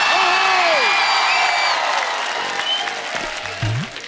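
A studio audience applauds and cheers as superstar Salman Khan is welcomed onto a comedy show, loud clapping with whoops that gradually fades, accompanied by a fading musical sting.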